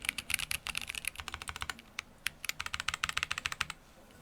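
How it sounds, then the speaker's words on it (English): Ivory keycaps are pressed onto a KBDFans D45 mechanical keyboard, making rapid bursts of sharp, close plastic clicks and clacks in uneven clusters with brief pauses between them. "this next step is putting the ivory keycaps on"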